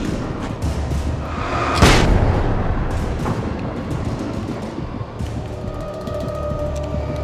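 A flashbang goes off in the Alan Wake game with one sudden booming burst, followed by a fading rumble and lingering game ambience.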